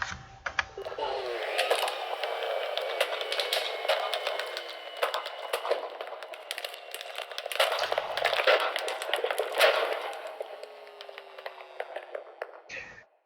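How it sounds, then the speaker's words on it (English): Ender Dragon death sound from Minecraft, played through a jukebox: a long, dense, crackling and rumbling roar that holds for about twelve seconds with a brief dip near the eight-second mark, then cuts off abruptly. "That was the sound of the Ender Dragon dying"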